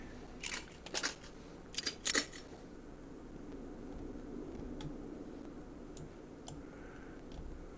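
A magazine is loaded into a rifle in the video game DayZ, a few sharp metallic clicks and snaps in quick pairs early on, then faint ticks over a quiet steady hum.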